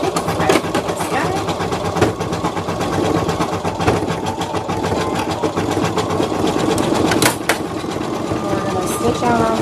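A machine embroiders nostrils onto a felt giraffe mask, its needle clattering in a rapid steady rhythm with small sharp clicks, loud and close, while a person talks over it.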